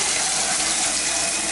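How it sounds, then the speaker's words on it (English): A shower head in an apartment bathroom runs at strong pressure, a steady loud hiss of spraying water close by for the whole stretch. "We'll just check the water pressure."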